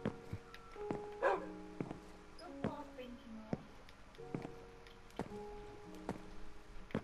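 Dog barking in Minecraft, a string of short, sharp barks spaced through the stretch alongside soft game tones, fairly quiet overall.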